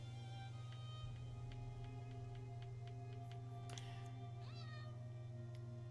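A house cat in an Elder Scrolls game meows a few times over a steady low in-game hum, with a rising cry near the end, distinct but not loud.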